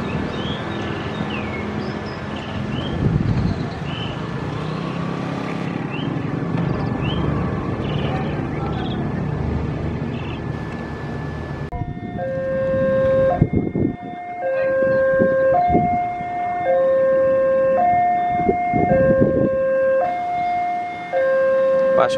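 Argo Wilis passenger train from Surabaya Gubeng to Kiara Condong passing on the Indonesian railway, carrying a special Lebaran livery, with rumbling wheels and a loud repeating two-tone horn near the end. Rail noise dominates the clip.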